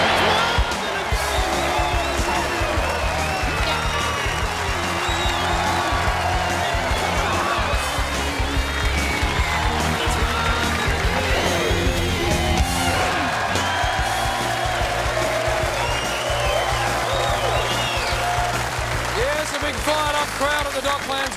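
Studio crowd at the Docklands for The Footy Show, applauding and cheering throughout in a dense, loud, continuous wash of clapping, with a host's voice over it.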